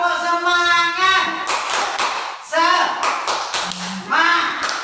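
Schoolchildren in an Indonesian elementary classroom do a rhythmic spirit clap, quick patterned claps under an adult's call and the kids' chanted voices.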